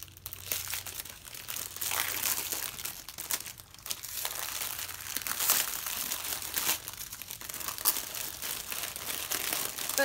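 A mail-order haul package is cut open, with close, continuous crinkling and tearing of plastic and paper packaging and no talking.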